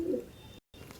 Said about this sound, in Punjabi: ਦੇਖੋ ਬਹੁਤ ਹੀ ਸ਼ਾਨਦਾਰ ਰੇਅਰ ਕੁਆਲਿਟੀ ਵਾਲੇ ਕਬੂਤਰ